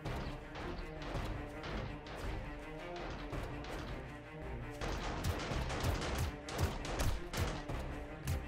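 Rapid gunfire in the zombie survival game 7 Days to Die during a PvP match, a dense, loud barrage of cracking shots that grows busier and sharper toward the end.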